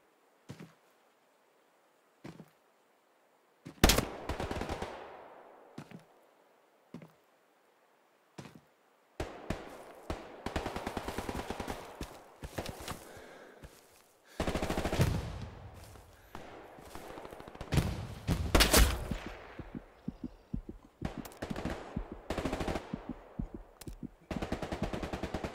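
Gunfire in a Hill 400 match of a video game: isolated single shots at first, then long rattling bursts of automatic fire, some close and sharp, others fainter, with brief gaps between volleys.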